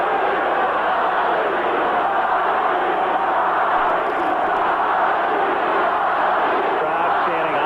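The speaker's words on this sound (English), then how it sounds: "Crowd chanting Ozzie, Ozzie." A big baseball crowd at a 1982 playoff game between the Braves and Cardinals chants a player's name, producing a steady, dense roar that fills the stadium at constant loudness.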